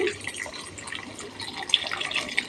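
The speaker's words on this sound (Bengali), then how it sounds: "আন্দাজ মতো গরম জল অ্যাড করে দিচ্ছি" Hot water poured into dry fried masala in a pan while making an aloo matar paneer gravy, a soft continuous splashing and trickling that swells slightly toward the end, with faint talk underneath.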